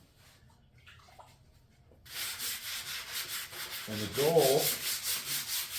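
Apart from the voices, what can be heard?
wet sanding car body with 220 grit sandpaper and water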